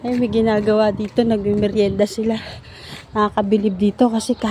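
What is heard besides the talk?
None of the usual background noises is heard.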